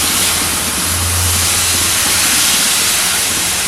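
Milk poured into a pan of melted, browned sugar for a semolina sweet gives a loud, continuous steaming hiss and sizzle, close and steady for the whole stretch with a faint low rumble underneath.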